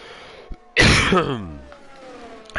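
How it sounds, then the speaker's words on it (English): A person clears their throat with a loud, harsh rasp, a single forceful burst that trails off into a lower rumble, close to the microphone. "I'm trying to keep my coughs under control, but it's gonna be rather difficult."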